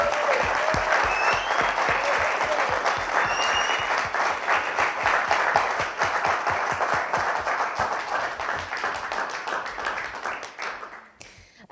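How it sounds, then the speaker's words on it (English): An audience at a final innovation-fellowship pitch event claps for the presenters: a dense, steady round of applause running about eleven seconds and tapering off at the end, with no talk over it. "So just let's give a round of applause to everyone presenting today."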